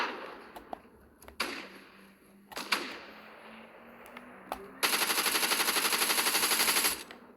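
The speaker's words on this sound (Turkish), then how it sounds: "Makinalı tüfek zamanı." A machine gun fires in Fortnite, with scattered single shots and clicks early on, then a sustained rapid burst lasting about two seconds, loud and close, with no voices.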